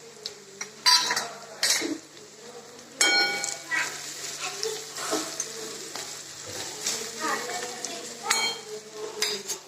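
A spoon stirs potato and onion curry in a pot over low heat, with uneven scraping and metallic clinks against the pot over a faint sizzle.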